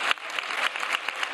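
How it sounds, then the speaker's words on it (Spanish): Parliamentary deputies from all groups give a minister a standing ovation, filling the chamber with dense, steady applause. Many hands clap together in a continuous, crackling wash throughout. "conste en acta esta ovación de todos los grupos parlamentarios a este ministro"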